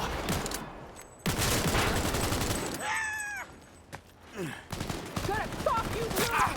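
Sustained gunfire in the video game Cyberpunk 2077, a dense fusillade of repeated shots with bursts of combat noise and short vocal sounds like gasps or grunts mixed in throughout.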